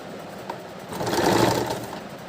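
A sewing machine runs a brief burst of permanent stitching along a folded blouse strip, a soft quiet whirr that swells in the middle of the run and then eases.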